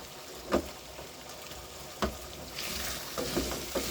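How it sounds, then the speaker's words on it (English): Beef stew with potatoes stirred in a saucepan on a home stove, a few distinct scraping stirs spaced over a soft, steady sizzle close by, with no talking. "You go ahead and keep on turning it so that it can't stick on the saucepan."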